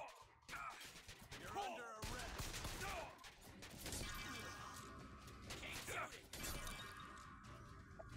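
BioShock Infinite gameplay combat: dense bursts of gunfire, crashing impacts and shattering debris keep up a loud, busy clatter for the whole stretch.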